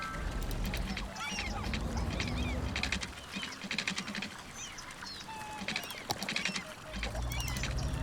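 Birds chirp and squawk in a city-building game, Cities Skylines, short bright calls scattered over a busy background ambience with low rumbling and occasional clicks, fairly loud and continuous.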